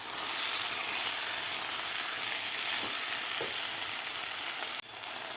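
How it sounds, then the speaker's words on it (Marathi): Rice and dal sautéing in a pan with spiced oil for masala khichdi, a steady bright sizzle with a few soft stirring scrapes and a sharp clink near the end, close and alone. "हे तांदूळ आणि डाळ व्यवस्थित परतून घ्यायचे आहे 1 ते 2 मिनिट."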